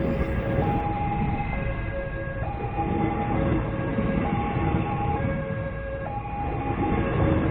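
Passenger train on the line from Pulau Air station in Padang to Minangkabau International Airport, a steady loud broadband rumble of wheels on rails with tonal whining notes stepping up and down throughout.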